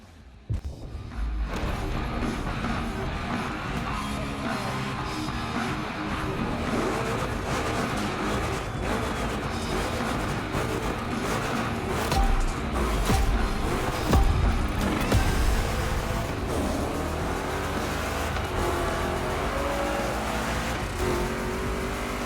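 Two Chevy 3100 big block trucks racing in a driving game, continuous loud engine roar with revving and gear changes throughout, no talk.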